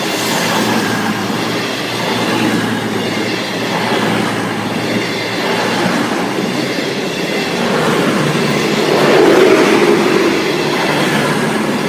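A Class 221 train passes the Noose Lane level crossing in the West Midlands, a loud, steady rumble of rolling wheels and clattering cars lasting the whole stretch, swelling slightly near the end.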